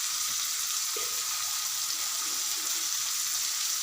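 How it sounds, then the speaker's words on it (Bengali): Dried salted hilsa fish fries in a pan as chili powder is added, giving a steady, bright hiss of sizzling oil that holds unbroken throughout, close up and without talking. "আমার মাছ শুটকিটি ভাজা হয়ে গিয়েছে। এখন আমি এর মধ্যে মরিচের গুঁড়ো দিয়ে দিচ্ছি 1 চামচ"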